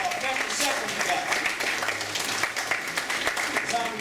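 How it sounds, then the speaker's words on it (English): A crowd at a campus Black History Month event applauds, a dense, steady wash of clapping that fills the room for several seconds. "I want you to stand up and give yourselves an applause."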